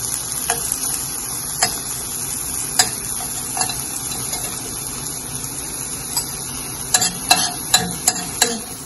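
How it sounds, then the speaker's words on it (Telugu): Soaked tamarind pulp cooks in oil with a soft, steady hiss, while a spoon taps and scrapes the pan in sharp, irregular clicks that cluster toward the end. "ఒకసారి నూనెలో దీన్ని కూడా ఇలా ఉడికించినట్టు చేద్దాం."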